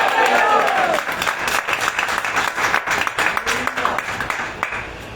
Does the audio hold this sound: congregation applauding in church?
yes